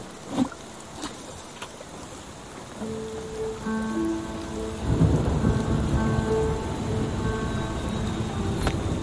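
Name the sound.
thunderstorm in the video game Spiritfarer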